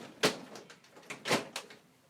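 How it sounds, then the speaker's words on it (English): A door to a home craft room is pushed shut, giving a few soft knocks and a duller thud near the middle, close by and fairly quiet against a hushed room. "I'll close the door to my craft room."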